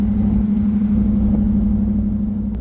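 Steady mid-pitched engine drone from an 8HP-transmission-swapped Jeep Wrangler, holding gear after a downshift, loud and continuous with a constant hum and no voices.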